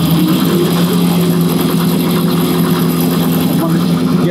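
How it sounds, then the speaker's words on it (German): Audi RS4 saloon 2.0 with a billet dry-sump oil pan and chain-driven oil pump, its engine running loud and steady with a low droning hum close by, speech over the top. "wenn ich die Drehzahl jetzt mal hochfahre"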